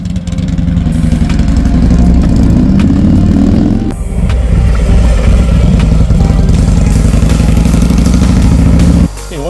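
A Harley-Davidson motorcycle idles during warm-up, its loud, close, lumpy engine rumble steady, with a brief dip near the middle before the idle resumes, running almost the whole way.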